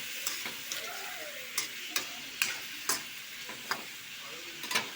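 Chicken sautéing in a pan with garlic, onion and ginger gives a soft, steady sizzle, broken by sharp, regular clinks and scrapes of a spatula stirring against the pan, close up with no talking.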